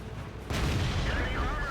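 Artillery fire striking in World of Tanks, a sudden loud boom that bursts in partway through and rolls on as a dense, rumbling blast over a low background hum.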